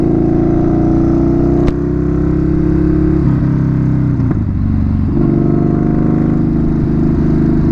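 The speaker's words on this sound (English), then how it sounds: "It's gonna have to be a bike that sounds like this." A Yamaha Bolt motorcycle engine rumbles loud and close while riding, its deep throb holding steady with brief shifts and revs midway through, with no talk over it.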